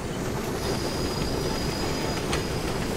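A train in a Medal of Honor: Above and Beyond video game rumbles steadily along the rails with dense low-end clatter and a faint high squeal of wheels, loud and continuous throughout.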